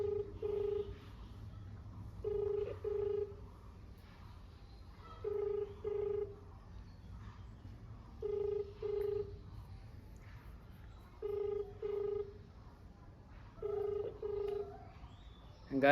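Phone ringback tone heard during an outgoing prank call, a repeated double ring pattern with regular pauses, faint and alone over a low hum.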